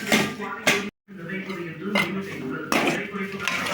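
Noodles, cooked until soft and stirred, are lifted into a cooking vessel, bringing repeated clinks and scrapes of metal utensils against pots that blend with ongoing kitchen movement.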